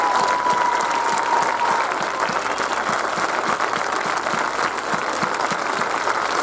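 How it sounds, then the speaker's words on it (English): Sustained applause fills a hall at a 2021 nursing recognition pinning ceremony as the faculty stand, dense and even clapping from a large crowd that carries on without a break. "give them a round of applause"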